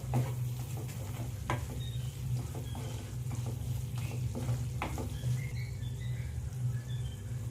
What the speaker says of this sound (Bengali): দিয়ে আবারও আমি 2-3 মিনিটের মতো ভালো করে গোশটা ভেজে নেব।